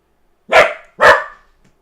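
A dog barks twice in quick succession, close and loud, two sharp single woofs with a brief pause between and quiet after.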